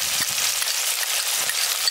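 Chopped ginger hitting hot oil in a pan while cooking a village-style rohu fish curry gives a steady, bright sizzle that stays close and even throughout, with no voices.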